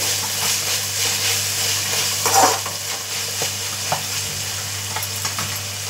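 Fish curry masala with tomato puree and coriander being stirred in a pan, a steady close sizzle with occasional spoon scrapes and clinks against the pan over a low hum, no one talking.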